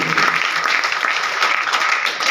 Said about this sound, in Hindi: तो एक बार जोरदार प्रोडक्ट के लिए तालियां होनी चाहिए